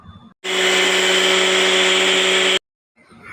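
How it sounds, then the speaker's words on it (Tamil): A kitchen mixer grinder blends coconut with cardamom to make coconut milk for Kerala rava kheer: a loud, steady motor whir with a grinding rasp, cutting in abruptly and stopping after about two seconds, with faint background sound either side. "ஏலக்காவை தேங்காயில் போட்டு அதை நல்லா அரைச்சி தேங்காய் பால் எடுத்துக்கலாம்"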